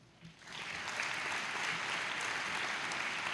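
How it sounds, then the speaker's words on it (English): A graduation audience breaks into steady, broad applause that swells quickly and holds at a full, even level, heard from a little distance across a large room. "So please, give yourselves a round of applause."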